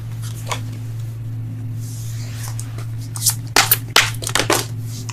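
Tarot cards shuffled by hand over a low steady hum, starting with soft brushing and building to a few quick, louder riffling bursts near the end, close by.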